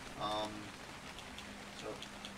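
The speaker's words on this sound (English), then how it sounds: "It's raining." Rain falls in the Extinction map of the survival video game Ark, a soft, steady hiss with faint scattered drops and a brief tonal blip near the start.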